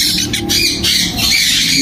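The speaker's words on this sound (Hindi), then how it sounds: "ये माशाल्लाह सनकनोर के चिक्स हैं, बहुत प्यारे चिक्स हैं माशाल्लाह" Sun conure chicks at a Sunday bird market in Bahawalpur squawk loudly and harshly up close, a near-continuous run of shrill, grating calls with brief dips between bursts.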